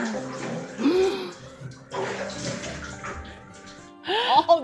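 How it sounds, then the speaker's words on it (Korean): Shower water runs in a family home, a steady splashing wash. It is moderately close, and children's voices and chatter are heard over it. "샤워하는구나."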